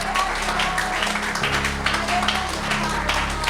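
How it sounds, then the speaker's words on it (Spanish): Church congregation applauding during a sermon, with steady broadband clapping that mixes with low musical tones and some voices underneath. "Dale el aplauso al Señor"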